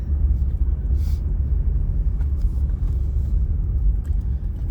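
Steady low road rumble from a car driving slowly around a small town, continuous and fairly loud inside the cabin with no words spoken.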